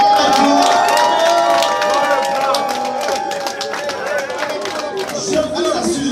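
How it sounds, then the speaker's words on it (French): A crowd at a ministerial installation ceremony cheers and claps for a man. The loud, close mix of shouts, whoops and scattered clapping keeps going steadily, with voices chattering throughout. "que vous applaudissez pour ce monsieur"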